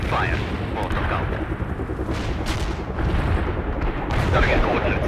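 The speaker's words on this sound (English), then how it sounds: "Heavy artillery strike fire." Heavy artillery strike in the World in Conflict strategy game, a dense continuous roar of distant booms and gunfire rumbling steadily throughout, with battle chatter mixed underneath.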